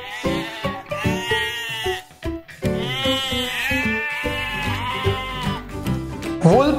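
A sheep bleats loudly and close in a string of wavering, nasal baa calls, several drawn-out cries following one another with no talk over them.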